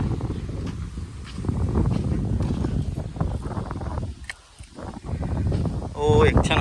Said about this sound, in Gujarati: પવન બહુ લાગે છે ને એટલે.